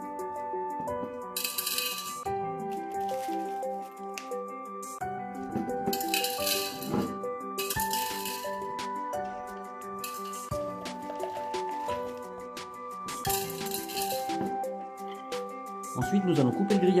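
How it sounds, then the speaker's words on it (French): Pebbles tipped into the bottom of a glass jar for a closed terrarium give a loose, clinking rattle in repeated bursts, heard close under steady background music with some voice present. "On commence en mettant les cailloux au fond du bocal."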